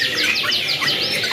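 Green Rosella parrots at a Jakarta bird market stall give rapid, bright chirps and short whistled calls, overlapping continuously at close range with no talking.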